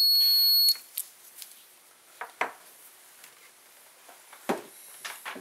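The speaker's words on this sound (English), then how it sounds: "If it beeps, it's okay." A digital multimeter gives a continuity beep while testing a fuse: one steady, loud electronic tone lasting under a second, followed by light clicks and handling taps.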